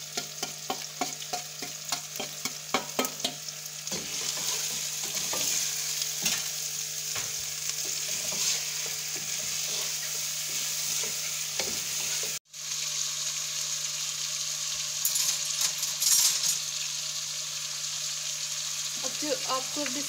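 Chicken pieces frying and sizzling in a pan for Kabuli pulao, with a steady hiss and repeated scraping stirs. The sound is close and continuous, with a brief dropout midway.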